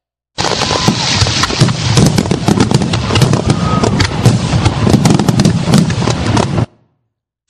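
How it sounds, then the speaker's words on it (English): A fireworks display crackles and bangs continuously for about six seconds, loud and dense with overlapping bursts and pops, then cuts off abruptly into silence. "I've added a fireworks video clip to the timeline,"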